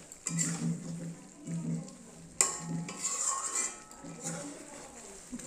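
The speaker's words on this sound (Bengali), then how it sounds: "ভালো করে মাংসটাকে একটু নাড়িয়ে দেবো" Chicken meat frying in a pan is stirred with a utensil, giving scraping and clinking strokes over a continuous sizzle, with a sharp clank midway and a person talking faintly at times.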